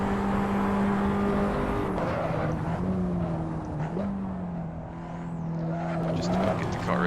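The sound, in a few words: Abarth 500 Esseesse engine and tyres in Assetto Corsa video game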